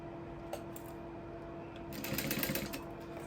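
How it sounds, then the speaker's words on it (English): Sewing machine stitching leather pieces for a sling bag at a 3.5 inch stitch length, a steady mechanical hum that swells into a louder, rapid run of needle strokes partway through, close and alone. "Just sewing them together."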